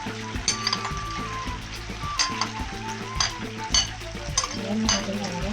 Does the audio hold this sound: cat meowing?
no